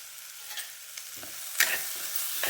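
Onion sautéing in a pan for a simple sandwich filling, salted and stirred, a soft steady sizzle with a few faint scraping strokes and one brighter clink near the middle.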